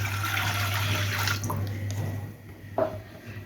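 Water splashes and pours into a pot on a stove for boiling chicken, a continuous close rushing flow that tapers off, followed by a few small clinks and a drip.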